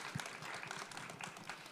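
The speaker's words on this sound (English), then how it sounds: "please give them a very big round of applause" Audience applause after an introduction of artists at a Tezos x Art Basel Miami Beach 2022 event, a steady wash of many hands clapping at moderate distance for the whole stretch.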